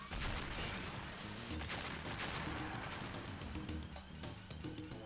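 Buildings crumbling under vehicle demolition in the Nintendo 64 game Blast Corps, a dense continuous barrage of crashing, explosive impacts with rapid sharp cracks, loud and unbroken throughout.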